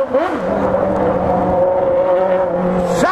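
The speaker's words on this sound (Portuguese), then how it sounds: "Pra quem gosta do bagulho, do barulho animal, dos quatro cilindros. É esse aqui, ó." Honda Hornet four-cylinder motorcycle engine held at high revs, a loud close whining howl that rises at the start, holds steady, then climbs again at the end.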